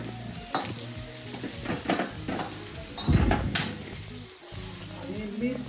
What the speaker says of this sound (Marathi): नंतर घालायचा कढीपत्ता.